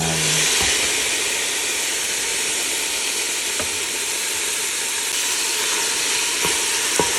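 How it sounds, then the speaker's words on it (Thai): Chili and pork stir-frying in a hot pan give a steady, loud sizzle throughout, with a few faint clicks of a utensil against the pan and no talk. "เราก็จะคั่วให้พริกมันหอม ผัดให้หอม แล้วเราก็ค่อยใส่หมูลงไป"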